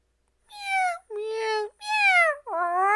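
A human voice imitates a cat, giving four drawn-out, wavering meows in a row with brief gaps between them, close and clear against silence.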